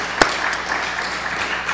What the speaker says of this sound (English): I want to give them a big another round of applause for this.